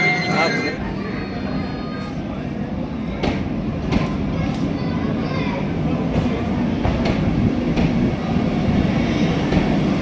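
A Vande Bharat train rumbles steadily along the tracks with rhythmic clacking, loud and continuous, while voices talk over the noise.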